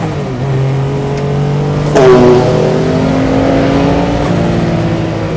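A Porsche 962 Le Mans-winning race car engine, loud and close, pulls hard in second gear through a right-hander, its steady drone rising in pitch with a brief gearshift-like bump before climbing again.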